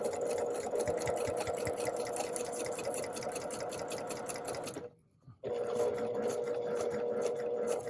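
A sewing machine stitches a New York Beauty quilt block with a fast, even mechanical chatter, broken by a brief pause partway through before it resumes at the same pace.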